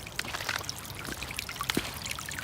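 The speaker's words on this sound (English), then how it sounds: "This is normally a pretty dry path, and it's now a stream of running water." Rainwater running down a normally dry hiking path in Pennsylvania, a faint steady trickle and gurgle of a shallow stream over ground, heard alone.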